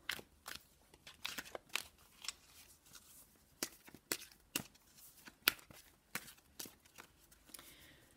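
A deck of Gateway Oracle cards being shuffled by hand up close, a run of crisp riffling slaps and soft papery rustles in an uneven rhythm, quiet apart from the cards.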